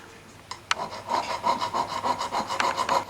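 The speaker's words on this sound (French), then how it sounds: "Puis encore une lime un peu plus fine pour supprimer les rayures de la deuxième lime." A finer metal file rasping across the oxidised surface of a black jewellery medallion: a short tap, then steady rhythmic back-and-forth strokes, close and crisp, with no voices.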